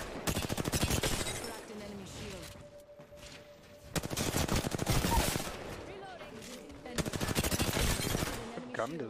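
Rampage machine gun fire from Apex Legends comes in long, rapid automatic bursts separated by short pauses, loud and close, with faint voices now and then among the shots.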